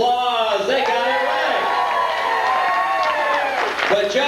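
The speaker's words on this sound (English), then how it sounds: "Let's hear a round of applause." A passenger audience at a participation game applauds and cheers loudly and steadily, with whoops and shouting voices mixed into the clapping throughout.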